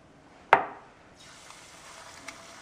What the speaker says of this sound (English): that nice sizzle when they go in the pan